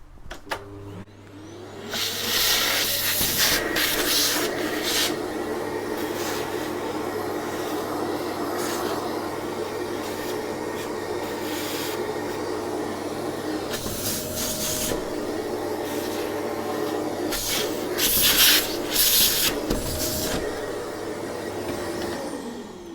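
A vacuum cleaner hums steadily while cleaning inside an old Husqvarna sewing machine, the pitch shifting as the nozzle moves. Bursts of hissing airflow and scraping rub come and go over about twenty seconds, with no talk.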